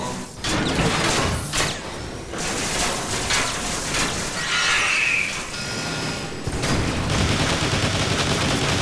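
Rapid bursts of laser gunfire from Transformers: War for Cybertron crackle almost continuously, mixed with mechanical clanks and one bright whooshing zap near the middle; no voices.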